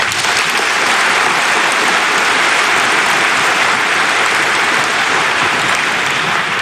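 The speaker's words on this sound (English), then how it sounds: "Please join me in giving them a well-deserved round of applause." An audience at the Bow High School Class of 2024 graduation ceremony claps in a dense, steady, loud round of applause that fills the hall without a break.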